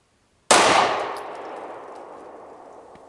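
One loud gunshot from a handgun fired at a target rings out alone after a half-second of silence. A long, slowly fading echo follows, with no voices.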